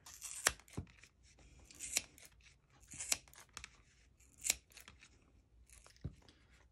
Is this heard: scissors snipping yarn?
yes